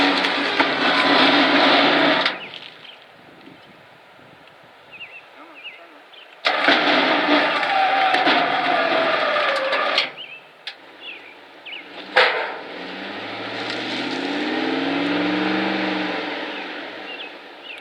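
An electric winch hauls a car for moving, its motor running in loud broadband bursts that stop and restart, with quieter gaps and a low rumbling swell toward the end.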